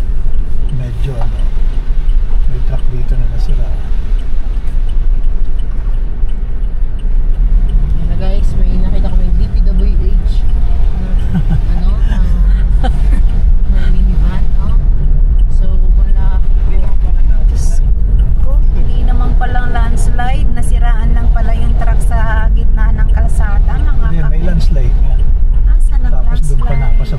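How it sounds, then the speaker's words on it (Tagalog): Heavy road traffic of cars, trucks and buses crawls along a road under repair past a broken-down truck. There is a loud, continuous close engine drone and rumble, with people talking over it throughout. "Diyos ko, sobrang traffic ini"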